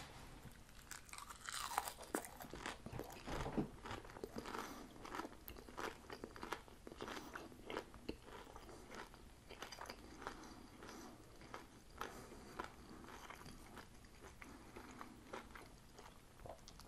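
Someone eats a home-cooked haddock plate with tartar sauce and oven-baked frozen steak fries, producing close, quiet crunches and chewing in an irregular rhythm over near silence.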